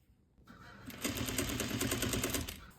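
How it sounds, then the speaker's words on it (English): A sewing machine runs in a quick, rapid rattling burst as it stitches along the edge of a jeans pocket bag, starting after a short quiet moment and continuing steadily close by. "We're gonna sew right along this edge."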